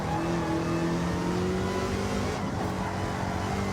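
A Roadster Shop Road Rage Camaro in a racing video game accelerating flat out downhill, its engine note climbing steadily and loud, with a brief shift in tone midway and no talking.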